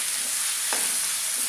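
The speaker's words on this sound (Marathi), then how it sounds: "त्यामध्ये आलं लसूणची पेस्ट घालायची आणि कांदा छान असा परतून घ्यायचा आहे" Onion sautés with ginger garlic paste in a pan, a continuous close, even sizzle and hiss with a brief stirring scrape partway through, no voices.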